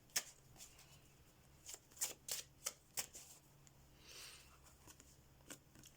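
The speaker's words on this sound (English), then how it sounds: "I'm going to get some thoughts and feelings cards for you and see what comes out of the deck." A tarot card deck being shuffled gives soft, quiet riffling snaps and flutters in a short irregular cluster, then a few scattered light card sounds in a quiet room.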